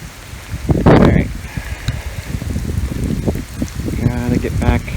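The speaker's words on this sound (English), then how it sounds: "Gotta get back out of the rain." Steady rain falls across a cemetery in Metairie, Louisiana, a continuous hiss with a brief heavier burst near the start and faint tonal sounds toward the end, with no voices.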